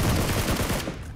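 Rapid gunfire in a competitive shooter match, dense overlapping shots in a continuous burst that thins out toward the end, with no talk.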